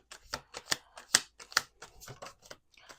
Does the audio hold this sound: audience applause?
no